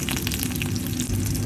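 Dried fish frying in hot oil, a dense continuous sizzle and crackle heard up close with no voices.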